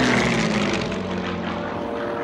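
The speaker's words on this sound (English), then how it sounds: "The men could tell by the noise overhead that the attack aircraft were ready to make their first dry run." An A-1E propeller attack aircraft flies overhead on a dry run, its loud, rough engine drone filling the air and easing off slightly as it passes, with no voices.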